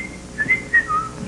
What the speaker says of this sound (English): Whistle a song with that word in the title.